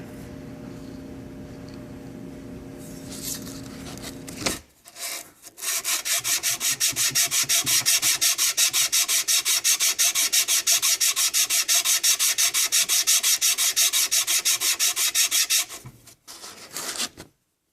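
An old hand plane blade is rubbed back and forth on an abrasive surface to flatten it, making steady rapid rasping strokes for about ten seconds after softer scraping, close and fairly loud.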